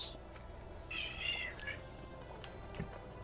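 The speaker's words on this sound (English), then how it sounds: "Oh, the kitty doesn't sound too happy." A cat in the cooking video game Overcooked! 2 gives a faint, strained meow midway, low in the mix over quiet game sounds.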